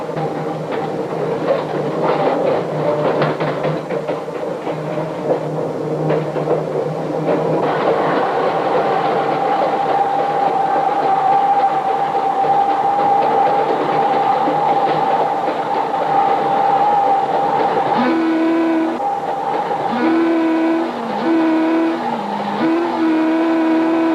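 A 1945 North Shore Line interurban train pulls out of Howard Street at the Chicago city limits, with a steady rolling rumble and a motor whine that climbs, then a few short tonal notes near the end. No one speaks.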